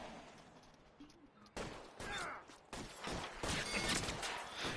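A shootout in a video game, with bursts of rapid gunfire cracking in loud volleys after a quieter start, and a voice talking briefly underneath.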